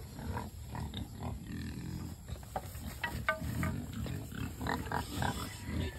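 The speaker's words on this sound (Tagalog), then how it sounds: "sa 50 piraso natin na baboy dito sa farm" Native pigs on a farm grunting and snuffling in a group, a busy low chorus of overlapping grunts with occasional higher squeals, moderately close.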